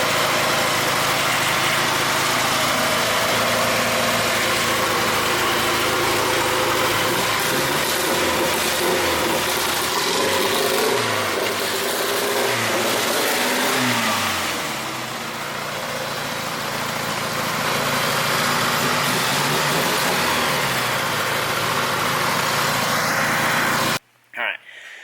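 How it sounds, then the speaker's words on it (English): A big-turbo AWD first-generation GSX engine with a misfire runs close and loud, idling roughly and then revving in uneven surges before cutting off abruptly near the end. "It just seems like it's misfiring quite a bit, and it's just not having a good time."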